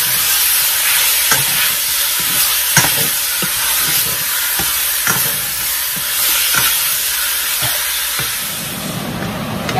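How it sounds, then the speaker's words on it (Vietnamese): Pork with sugar stir-fries in a hot pan for a Mekong Delta-style braised fish-sauce dish, sizzling loudly and continuously with repeated scraping stirs throughout. "bây giờ mình bỏ thịt rồi vô mình xào khoảng 1 phút rồi ha"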